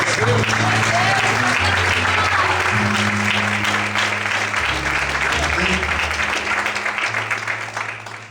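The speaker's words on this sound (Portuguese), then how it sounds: "Aplauda o Senhor bem forte." Church congregation applauds loudly and steadily in dense, sustained clapping, with organ or keyboard chords and voices underneath, fading slightly at the end.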